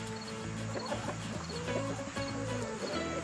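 Backyard chickens scratch at a compost pile, giving off a faint, continuous murmur of low clucks with no voices.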